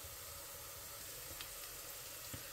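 Potato and taro pieces sautéing with salt in a pan, giving a steady, fairly faint sizzle and hiss throughout with a couple of soft stirring clicks, no talking.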